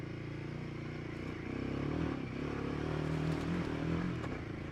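A Royal Enfield Himalayan 450 motorcycle on road tyres riding light off-road terrain, its engine humming steadily with slight revving swells and faint scrapes and crackles of the ground beneath.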